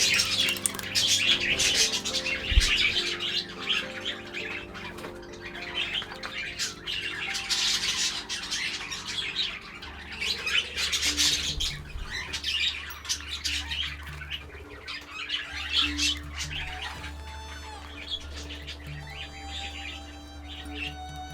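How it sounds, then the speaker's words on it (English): A flock of budgies in a heated aviary chirps, tweets and squawks busily around newly arrived quails, with overlapping calls from several birds, faint wing flutters and a low hum in the background. "another gang of budgies arrived to inspect the new visitors"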